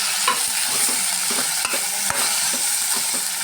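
Cut potatoes are stirred into a masala of curry leaves, ginger-garlic paste and asafoetida frying in a pan, giving a steady close sizzle broken by repeated scraping stirs of a spoon.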